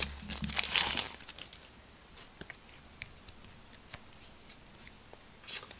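A Match Attax football card pack wrapper torn and crinkled open from a Lava Mega Tin, a close burst of crackly foil rustling at first, then scattered soft crinkles and a final crinkle.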